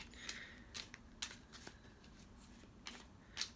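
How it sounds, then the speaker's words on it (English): Tarot cards are shuffled close by in a quiet room. Soft papery riffles and slaps come in several separate bursts. "I'm just going to do a couple more shuffles here."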